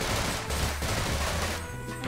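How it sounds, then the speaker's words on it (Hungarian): Dense, continuous machine gun fire in a Half-Life mod video game, a loud, rapid rattle of shots filling the whole moment with no pauses. "Hú, de jó a gépuska."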